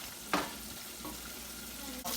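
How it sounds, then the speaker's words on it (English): Steady sizzling of swai fish frying in hot oil, a constant crackly hiss with a couple of brief clinks and bumps. "you see how it's frying pretty good?"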